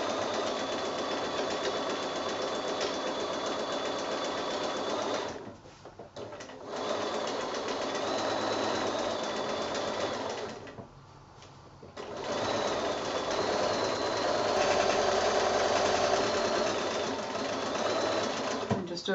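A sewing machine runs steadily while stitching along a mitre on a quilt, a loud continuous mechanical whir that pauses twice briefly before starting up again.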